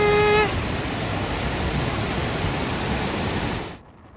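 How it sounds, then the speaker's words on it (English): Steady, loud broadband rush of a waterfall on a small mountain river near Lake Teletskoye, Russia, constant and close, with a brief tonal beep at the start before it cuts off near the end. "And I'm walking to a waterfall."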